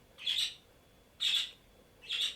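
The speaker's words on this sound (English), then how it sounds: "I cannot turn my birds off, because they are birds, they are living birds, and this is what they do." Pet birds squawk indoors in three loud, shrill calls spaced about a second apart, each a short harsh burst close to the listener, with quiet gaps between.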